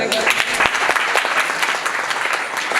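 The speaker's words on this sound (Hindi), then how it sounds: "ताली बजा दो।" Seminar audience applauding at a personality development session at a technology institute, dense steady clapping from a room full of people for a few seconds, with some voices faintly mixed in.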